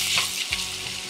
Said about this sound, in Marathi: आणि मस्त सोनेरी रंग येईपर्यंत कांद्याला परतून घेऊया.